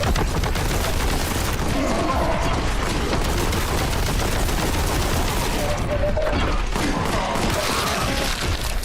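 Dense, continuous video-game gunfire rattles throughout at steady high loudness, rapid shots and mechanical clacks layered into a constant barrage with no pauses.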